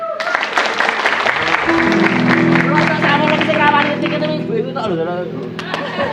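An audience claps at a Javanese comedy show, loud and dense at first, then thinning as a steady musical drone and chatter rise beneath it.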